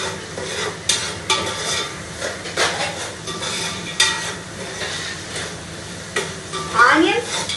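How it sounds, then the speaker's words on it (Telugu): Onions fry lightly in a pan of oil for coconut rice, a steady close sizzle broken by repeated spatula scrapes and clinks against the pan, with no talking. "ఆనియన్స్ లైట్గా ఫ్రై అయితే చాలండి"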